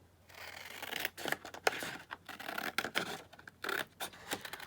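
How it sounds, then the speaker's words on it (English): Scissors snipping through craft card paper in a series of short, crisp cuts with brief pauses between them, close and fairly quiet, with no talking. "let me just cut this one down"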